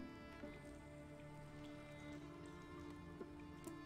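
Rain effect from The Witcher card game (Gwent) on PC: a steady, soft patter of rain washing over a low ambient music bed, with a couple of faint card clicks.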